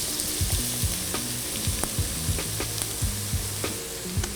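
Garlic sizzling in hot chili oil in a pan, a steady close crackle broken by repeated sharp clinks and scrapes of a utensil stirring, no voices.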